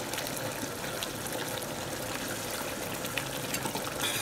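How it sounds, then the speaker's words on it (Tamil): Water poured into a pan of Kerala-style chicken curry partway through cooking, a steady close splashing and gushing pour that runs unbroken throughout. "கொஞ்சம் ஊற்றிக்கலாம் தண்ணி."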